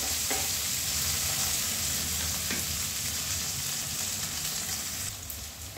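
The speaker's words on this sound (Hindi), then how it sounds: "तभी इसी समय हम एक छोटा कटा हुआ टमाटर डालते हैं। इसे भी हम चला लेते हैं।" Chopped tomato is stirred into browned onions frying in a pan, producing a loud, continuous close sizzle with a couple of faint spatula scrapes, easing slightly at the end, no talking.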